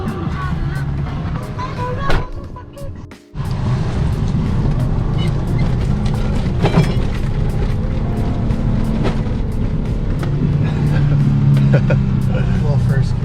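A lifted Toyota Tacoma pickup works its way offroad, its loud engine droning steadily up close, cutting out briefly before surging back under voices.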